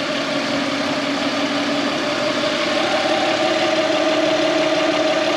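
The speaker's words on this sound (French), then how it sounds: "Là on laisse tourner le moteur, exprès pour que l'huile soit bien chaude." A car engine idles steadily in a workshop while the automatic gearbox oil warms up for a transmission fluid change, a constant even hum with a mid-pitched drone, close and unbroken.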